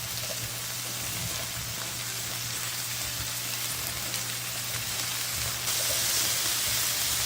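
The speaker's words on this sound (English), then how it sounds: "Now that we have some sizzling olive oil and butternut squash, let's move it around a little bit." Steady, crackling sizzle of butternut squash frying in hot olive oil in a pan, a dense hiss with tiny pops throughout, close up and without talking.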